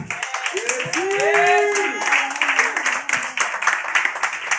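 Church congregation applauding, a steady patter of many hands clapping with a voice singing or calling out over it at the start, moderately loud throughout.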